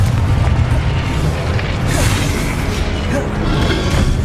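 Confringo fire-blast spell in the Hogwarts Legacy video game, a loud, dense booming burst with crackling rumble filling the whole moment, heavy low-end roar throughout.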